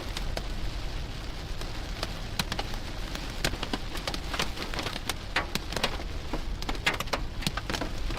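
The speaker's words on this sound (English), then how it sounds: "Hail is going over the roadway." Hail storm pelting a roadway in Oklahoma, a dense continuous rattle of many sharp impacts with frequent louder cracks, close and steady throughout with no voices.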